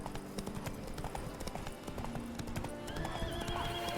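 The horse Roach galloping in The Witcher 3, with rapid rhythmic hoofbeats, a whinny partway through and faint background game ambience.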